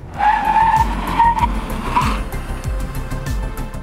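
A 2023 Mercedes B-Class hybrid braking hard from 100 km/h: loud, close tyre squeal rising and wavering over a low road rumble, fading as the car slows to a stop.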